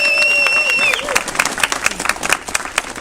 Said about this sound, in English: So, round of applause for Chris.